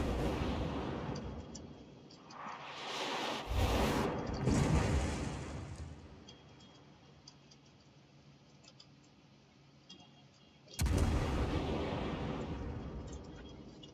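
Heavy naval gunfire from warships in a tier-eight clan battle video game: booming broadband blasts arrive in clustered salvos around the start and again later, each burst rolling off over a steady low rumble of background noise.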